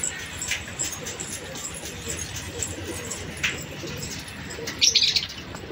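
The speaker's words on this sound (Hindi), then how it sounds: "कबूतर सारे यहाँ घूम रहे हैं" Soft cooing of pigeons outdoors against low background rumble, with a brief flutter of wings near the end.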